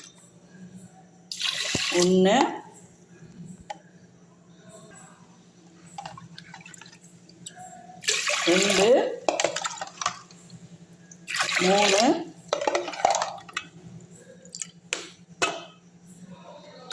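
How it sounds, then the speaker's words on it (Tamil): Cups of water poured onto washed rice in a pot for cooking, three separate splashing pours with pauses between, close up, with a faint hum and a voice counting along. "இந்த கப்புலேயே 4 கப்பு தண்ணி ஊற்றிக்கலாம்"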